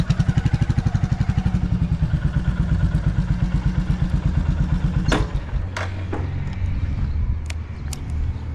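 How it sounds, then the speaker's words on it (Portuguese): Motorcycle engine idling with a fast, even putter, then cutting out as the kickstand is lowered, followed by a few sharp clicks and clunks against a quiet background. "Ela desliga quando coloca o pezinho."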